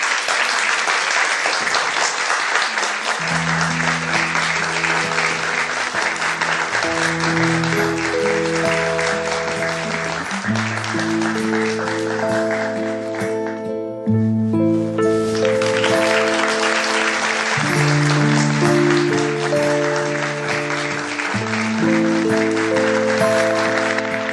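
Sustained audience applause for the winner of the Turkish Mathematics Championship, a dense wash of clapping hands that runs almost the whole time over a swelling orchestral music cue, with a short lull midway before the clapping resumes.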